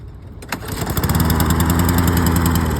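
Small gasoline engine, likely a lawn mower, starting with a pull and catching into a loud, steady running rumble close by.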